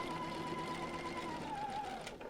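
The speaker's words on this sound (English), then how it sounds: "sew my seam" A sewing machine stitches a quilt block seam, giving a steady, close mechanical whir that runs without a break and slows slightly at the end.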